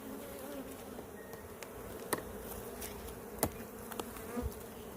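Angry honey bees swarm around an opened hive, buzzing continuously at a moderate level, with scattered sharp knocks and taps of hive handling breaking through.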